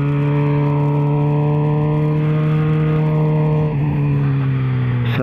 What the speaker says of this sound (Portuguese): Um carro aí na frente.